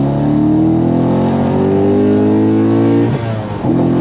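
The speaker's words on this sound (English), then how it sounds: "On throttle, here we go, second gear." A modded C6 Corvette Z06 accelerates hard in second gear, its loud engine note climbing steadily in pitch before a brief dip around a shift, then resuming, close and alone.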